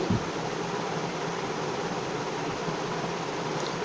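Eggs and sugar are beaten for cake batter, giving a steady, continuous whirring hiss that stays even throughout, close and alone with no talking.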